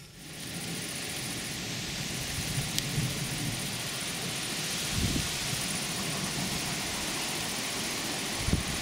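Steady rain hisses over a low rumble, with a couple of deep thunder-like thumps rising briefly out of the constant wash of noise.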